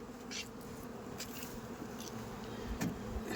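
Honeybees at a rooftop honey hive: a steady, continuous buzz of many bees, fairly quiet and close, with a few brief sharper sounds and no talking.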